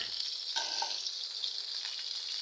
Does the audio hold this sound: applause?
no